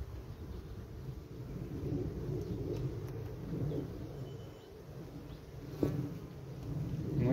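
Honeybees in a small black-queen colony at an open hive box give a steady, moderately loud low buzz, with one brief sharp knock partway through and no speech.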